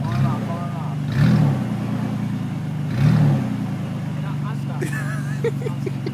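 A prerunner truck stuck in place idles and revs with two louder surges a couple of seconds apart, while people talk over the engine noise.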